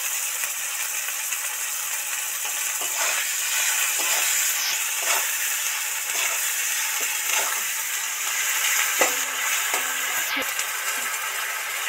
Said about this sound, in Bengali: এবার জিরে ধনে মরিচ গুঁড়োটা দিয়ে দিচ্ছি। তেলের মধ্যে সিদ্ধ করা টমেটো দুটো অ্যাড করছি।